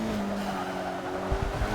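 A 2006 Mitsubishi Lancer Evo IX MR in Forza 6 braking hard, its engine droning steadily as the tires squeal and skid, with bumps of road noise near the end.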